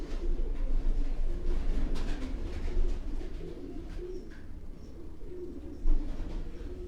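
Sialkoti pigeons coo softly in a low, continuous murmur, close by, with faint chirps and occasional small knocks around them.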